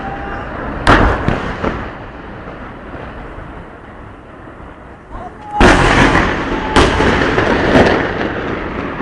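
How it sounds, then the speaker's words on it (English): Loud explosive blasts go off in a few sharp bursts, each one followed by a rumbling wash of noise, and the last one sustains into a long, heavy roar. "Explosion!"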